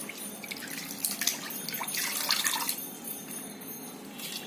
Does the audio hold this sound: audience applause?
no